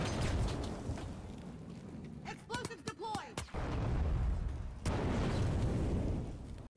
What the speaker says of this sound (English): You can avoid waiting for a C4 to be active to explode by placing it in fire.